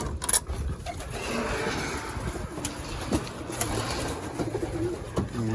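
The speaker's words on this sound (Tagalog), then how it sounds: "Tingnan natin yung mga ibon natin. Mga young birds nandito, ayun papaaraw." Young racing homing pigeons in a loft coo softly and steadily, with occasional faint wing flutters and light background noise.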